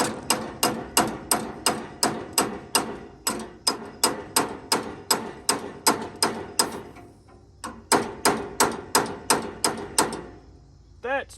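Rhythmic hammer blows with a ratchet hammer while working on a 1922 International truck, sharp metallic strikes repeating about twice a second in a close, loud run with a brief pause midway.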